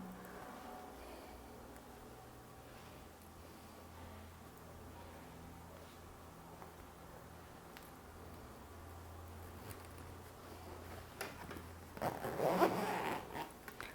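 A zipper slider is drawn along a fabric zipper on a small sewn pouch, giving quiet scratchy ticks with a louder rasping pull near the end.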